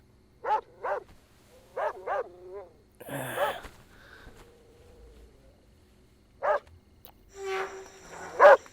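A dog barks in a Hindi-dubbed action movie scene: several sharp barks, mostly in quick pairs, come close and loud, separated by quieter stretches of other soundtrack noise.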